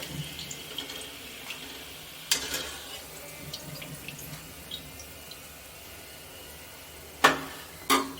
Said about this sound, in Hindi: और इसी तरह से हम सारा फ्राई कर लेते हैं